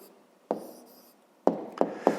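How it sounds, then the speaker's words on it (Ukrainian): A hand writes an answer for a fifth-grade math exercise, with four short scratchy strokes in a quiet room: one early, a pause, then three close together. "пишемо відповідь"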